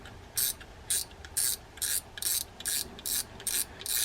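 A Shinova fishing reel, its anti-reverse just repaired with a spring fix, gives off regular bursts of crisp ratcheting clicks, about eight short pulses in a steady rhythm, close and alone.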